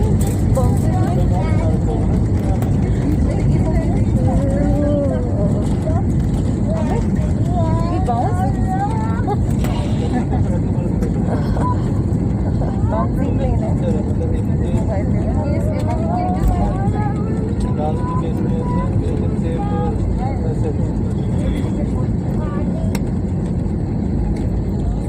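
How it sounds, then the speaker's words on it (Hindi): Vistara Airbus A320 touching down fast on a short runway at Srinagar: a loud, steady cabin roar of engines and rushing air runs throughout, with people talking over it. "ज़्यादा स्पीड में लैंडिंग है।"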